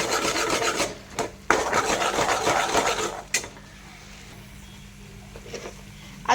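A spoon scrapes and stirs salted masala as it roasts in a pan. There are two long, loud stretches of gritty rubbing, a brief clank, then a quieter sizzle with a few faint scrapes, and no talking.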